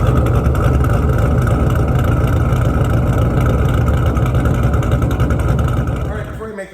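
A 2008 Ford Mustang GT California Special with an Edelbrock supercharger, Detroit rocker cams and BBK long tube headers runs loud and close in a steady throaty drone, then cuts off abruptly at the end.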